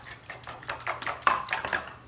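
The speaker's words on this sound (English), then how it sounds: "I'm just going to beat some of the milk into the eggs" Milk is beaten into eggs in a bowl for thin pancakes, with a quiet, quick run of utensil clinks and scrapes against the bowl, close and alone.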